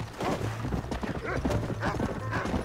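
Horse hooves clip-clop in the Red Dead video game with a steady walking rhythm, fairly close, and a few faint voices drift underneath.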